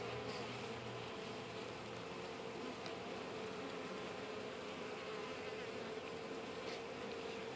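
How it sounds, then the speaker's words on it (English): Honey bees buzz steadily across a hive frame during a queen release, a dense, constant close-up drone with no talk over it. "we'll watch the other bees, make sure they don't try to attack her"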